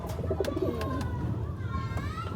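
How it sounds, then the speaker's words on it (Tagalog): A racing pigeon coos in soft, low, repeated calls over a steady background hum. "Ang ibon."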